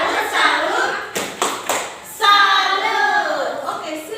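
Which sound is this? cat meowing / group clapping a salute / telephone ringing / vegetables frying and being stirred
group clapping a salute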